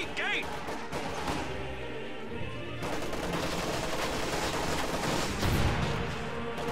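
S-mine explosions in a war video game: sharp bursts cracking through a background of battle noise, with a heavier blast near the end, while a commentator talks over the action.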